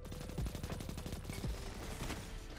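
Rapid bursts of gunfire in the shooter game Destiny 2 ring out in quick repeated volleys, punchy shots with a few heavier low thumps mixed in, fairly quiet overall.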